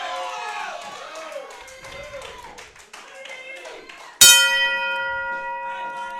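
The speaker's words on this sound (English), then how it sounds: "the opening bell has sounded" Opening bell at a televised professional wrestling bout in a ring, struck once with a sharp clang that rings on with a sustained metallic tone, following a stretch of crowd noise and a voice.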